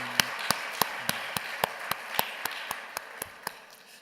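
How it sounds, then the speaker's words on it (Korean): Church congregation at a Sunday service clapping in unison, a steady rhythmic beat of about four claps per second, moderately loud with a hall's reverberant wash behind it. "우리 다시 한번 뜨거운 격려의 박수 부탁드리겠습니다"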